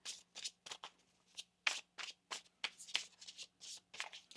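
Tarot cards being shuffled by hand during a reading, a close, quiet series of irregular riffling bursts and soft slaps over a faint low hum, with no talking.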